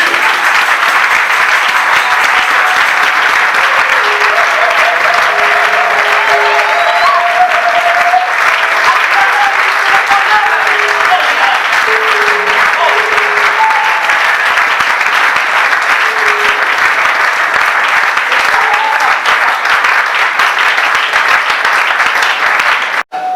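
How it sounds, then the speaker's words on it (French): A church congregation claps and acclaims at a French-language service, long, steady applause from a large crowd with scattered voices and shouts rising through it, holding loud throughout. "Est-ce qu'on peut acclamer le Seigneur? On acclame Jésus."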